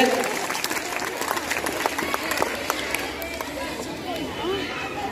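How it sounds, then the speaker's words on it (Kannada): Applause at a government school Independence Day celebration welcoming an arriving guest teacher, a steady broadband wash of many hands clapping for the full stretch, with crowd chatter mixed in. "ಜೋರಾದ ಚಪ್ಪಾಳೆಯೊಂದಿಗೆ ಸರ್ ಬನ್ನಿ"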